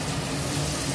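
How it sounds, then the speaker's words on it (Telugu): Water being poured into a pot of vegetable biryani with mint and coriander, a steady close rushing pour that holds at an even level throughout, with no voices over it. "ఇదిగోనండి, వాటర్ వేస్తున్నానండి."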